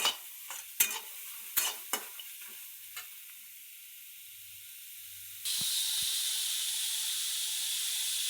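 Chopped onions for egg bhurji fry in a pan with a spatula scraping and stirring in a few sharp strokes, then a steady loud sizzle as ingredients hit the hot oil.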